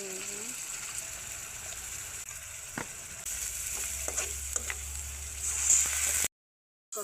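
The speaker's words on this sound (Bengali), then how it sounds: "মাছ কষানো" Fish sautés in a pan with sponge gourd and potato, giving a steady close sizzle with scattered stirring clinks, and a voice speaks faintly under the frying.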